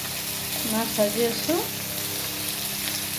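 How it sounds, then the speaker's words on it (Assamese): Fish frying in oil, a steady hissing sizzle close by, with a few brief tonal sounds rising over it near the start. "এয়া মাছ ভাজি আছোঁ"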